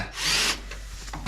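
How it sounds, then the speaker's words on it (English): A power drill bores out rivets on a Willys wagon, a short close high-pitched grinding whine for about half a second, then fades into light rattles and a sharp knock. "Next up, drill them out."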